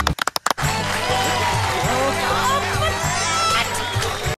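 Crowd noise with cheering and applause at a small gathering celebrating a milestone, continuous and fairly loud for several seconds after a few sharp opening claps, with voices mixed in.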